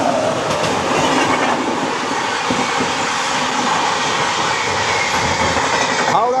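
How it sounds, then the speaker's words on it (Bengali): 12841 Howrah–Chennai Coromandel Superfast Express rushing past, a loud steady roar of carriages with rhythmic wheel clatter and faint squeals, close and unbroken for several seconds. "এবার আমাদের সঙ্গে দেখা হবে 12841 হাওড়া চেন্নাই করমণ্ডল সুপারফাস্ট এক্সপ্রেসের সঙ্গে"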